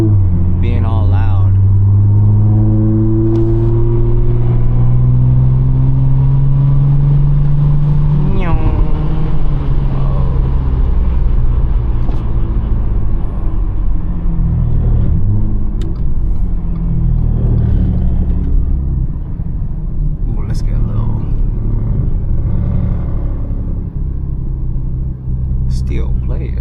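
A 500hp Audi S4 cruises at night with a deep, steady engine rumble that swells on acceleration, loud and continuous throughout, while someone talks over it.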